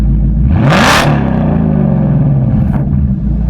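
A 2024 Shelby Super Snake with its resonator removed revs sharply to about 5,000 RPM, holds a loud exhaust roar for a couple of seconds, then falls back to a rumbling idle, close by.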